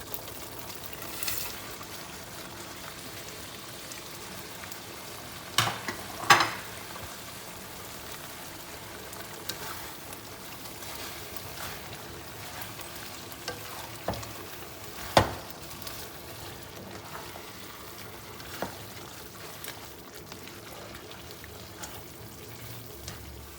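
Dried anchovies (ikan bilis) being stirred into a simmering coconut-milk sambal, with a soft, steady sizzle of frying under occasional scraping and knocking of a utensil in the pan, at low level and with no talking.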